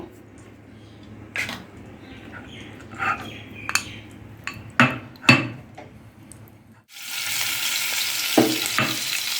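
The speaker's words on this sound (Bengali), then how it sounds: "গ্যাসের জোরটা কম রেখে হালকা করে ভেজে নেব" Salted paneer pieces fry lightly on a low gas flame. Soft sizzling is broken by several sharp utensil knocks and scrapes, then a louder, steady hiss takes over near the end.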